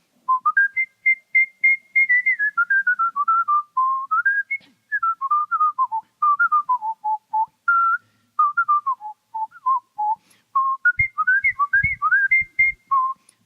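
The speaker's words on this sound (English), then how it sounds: "and I whistled." A person whistles a lively swing tune in a competition setting; clear, close, melodic phrases with steady rhythm and brief pauses, heard alone with no talking.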